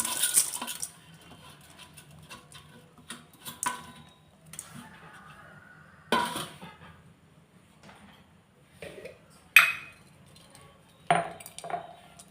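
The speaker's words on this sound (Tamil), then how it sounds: "இப்போது நம்ம வதக்கின பாசிப்பருப்பு தேங்காய் எல்லாம் சேர்த்துக்கலாம்." Sautéed moong dal and coconut are added for a sweet filling, with sparse, close clinks and taps of metal utensils and vessels spaced out over a quiet background.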